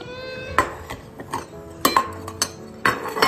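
Ceramic plates for cat food clink and clatter as they are set down one after another on a hard surface, a series of close, sharp knocks with short pauses between.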